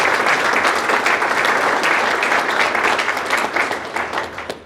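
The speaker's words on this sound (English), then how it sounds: "Can we give them one more round of applause?" An audience at a school academies celebration event gives a round of applause, a dense, steady clapping crowd that carries on loudly before gradually thinning toward the end.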